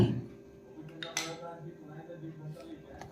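A new Hawkins appe pan is taken out and handled in a home kitchen, giving a few metallic clanks and clinks, one sharper knock standing out, while people talk nearby.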